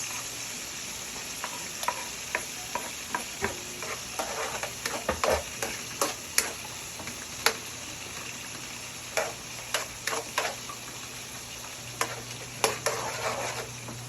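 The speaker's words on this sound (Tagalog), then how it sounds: "Para habang nagpapainit ng butter, lumalabas na rin yung katas ng sibuyas." Garlic and onion crackle and sizzle in melting butter in a pan, a steady soft frying hiss broken by frequent sharp pops and stirring clicks, close and alone with no talk.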